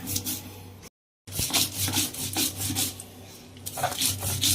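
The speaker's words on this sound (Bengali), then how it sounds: "নিয়ে আমি এবারে বেটে নেব।" Mustard seeds and green chillies are ground into paste on a stone, a steady scraping rub repeated back and forth with one short pause, close and fairly loud.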